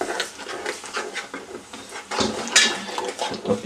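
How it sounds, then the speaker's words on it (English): Sugar being stirred into boiling hawberries in a pan for ketchup, a busy rattle of a spoon scraping and knocking against the pan over a bubbling simmer, close and continuous. "put the heat under the pan and bring it back up to boil, and just stir in the sugar"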